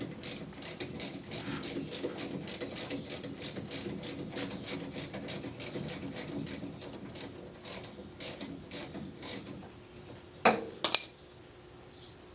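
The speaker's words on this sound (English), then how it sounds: "Now it should be loose enough for me to get it with the socket wrench." A socket wrench ratchets bolts off an MGB's front brake caliper, producing a long run of close, rapid clicking bursts in a steady rhythm that slows and thins out toward the end, with a couple of sharper metallic clacks.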